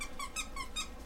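A squeaky duck toy being chewed by a dog gives three sharp, high squeaks at an even pace, each one loud and close over a low background rumble.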